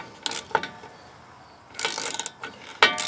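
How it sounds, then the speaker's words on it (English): Ratchet tightening driveshaft bolts on a Nissan Titan, a few short bursts of close, crisp clicking separated by brief pauses. "So we'll put our 4 bolts in there and start tightening that back up."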